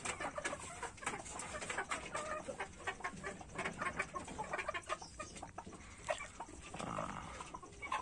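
Joper chickens, a meat-type breed, cluck continuously in a coop, with overlapping calls from several birds at moderate distance.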